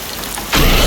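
Rain in a film's rain sequence, a dense broadband hiss that abruptly surges to loud, steady downpour midway through.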